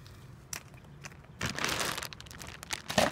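A plastic bag crinkles in bursts while being pushed back into a small taped geocache container outdoors, with scattered crunchy rustles that grow louder and denser toward the end, no speech.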